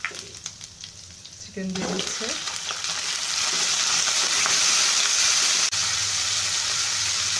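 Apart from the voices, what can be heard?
chicken frying in oil in a pan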